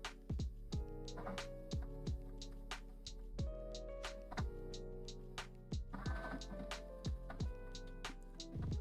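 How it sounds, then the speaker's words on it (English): A Bambu X1C 3D printer runs at speed, giving off a steady mechanical hum with rapid clicks and ticks from the moving print head that repeat irregularly throughout, fairly quiet and with no voices. "these printers are insanely fast. Also really freaking loud."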